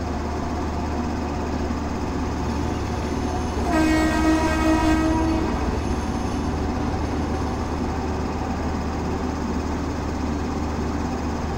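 A Shatabdi Express train running at full speed in a train simulator game, a constant heavy rolling rumble with one sustained horn blast partway through, with no voices.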